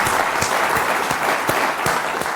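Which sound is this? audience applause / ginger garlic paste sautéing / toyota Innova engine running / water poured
audience applause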